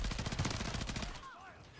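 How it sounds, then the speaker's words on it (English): Automatic gunfire in the video game Call of Duty Warzone 2, a rapid burst of close shots that cuts off after about a second, leaving quieter background game sounds. "Watch out, people shooting at us."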